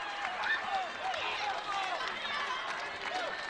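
Kenmare fans roar and clap at a 2021 state volleyball match against Northern Cass, a steady, dense crowd noise that swells slightly while a commentator talks over it.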